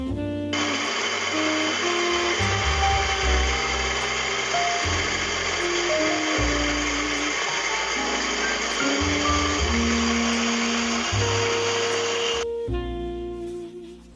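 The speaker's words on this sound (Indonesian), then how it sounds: "Kopi yang sudah kita timbang tadi akan kita giling ya." Electric grinder grinding coffee beans at a medium setting, a loud continuous whirring motor with rattling crunch that holds for about twelve seconds, then cuts off abruptly and winds down.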